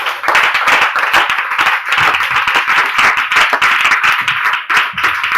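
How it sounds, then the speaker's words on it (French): A church congregation claps loudly and steadily for the Lord, a dense rhythmic patter of many hands that carries on without a break. "Acclame très fort pour le Seigneur"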